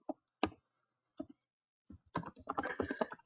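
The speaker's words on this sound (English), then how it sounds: "So I pick a spot right here, and I want to type April Simkus." Typing on a computer keyboard, first a few sparse key clicks, then a quick close run of rapid keystrokes.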